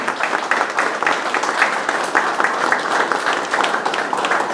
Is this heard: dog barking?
no